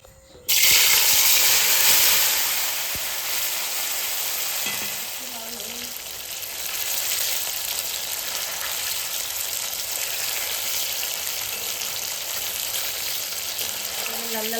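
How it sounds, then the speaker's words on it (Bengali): Prawn fritters (chingri jalbora) dropped into very hot oil sizzle loudly, a strong bubbling fry that steadies into a continuous crackling hiss with occasional stirring touches. "তেল গরম হয়ে গেছে এবার আমি ভেজে নিই এগুলোকে"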